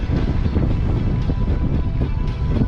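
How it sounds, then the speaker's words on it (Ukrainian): Strong wind buffeting the microphone in an open field in south-eastern Podillia, Ukraine, a loud continuous low rumble with gusty surges throughout. "Тут дуже вітряно, відкрите поле"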